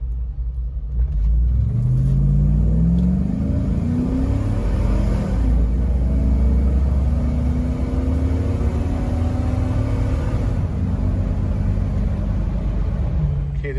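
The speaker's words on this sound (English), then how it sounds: "Here's a little acceleration video." A 1987 Toyota FJ60 Land Cruiser with a swapped 5.3-liter Vortec LS V8 accelerates hard, its engine note rising through steady revs in a loud, close, continuous rumble with no talk.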